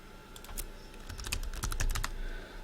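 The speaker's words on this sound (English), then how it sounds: "I'll click F9 several times and we see how the bins are updated." Computer keyboard with the F9 key pressed repeatedly, giving a quick run of crisp, close clicks that cluster in the middle, with no voices.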